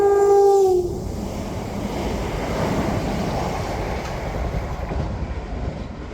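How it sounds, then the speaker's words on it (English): A train passes through St Denys station: a tonal horn blast opens, then a loud, steady rolling rumble with rail clatter carries on close by until the end, with no talking. "Hello, we have a train coming."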